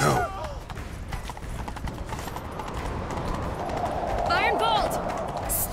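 Horse hooves clip-clop at a steady galloping rhythm in The Witcher 3: Wild Hunt, running throughout under wind and game ambience, with a voice calling out near the end.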